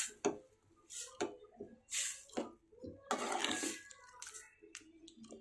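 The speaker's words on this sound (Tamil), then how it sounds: "இப்போது கொஞ்சமாக தண்ணி ஆட் பண்ணிக்கலாம்." Pea-cooking water splashes and sizzles into a hot pan of green peas masala in several short bursts, with bubbling and clinking between pours, fairly close.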